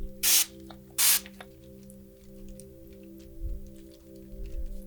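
Two short, sharp bursts of mist spray hiss from a spray bottle, close and loud, one right after the other over a soft, low background hum in a forest setting.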